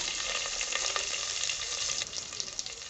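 Curry leaves, red chilli and garlic sizzle in hot oil with mustard seeds and asafoetida in a pan, a steady close crackling hiss with small popping bursts throughout.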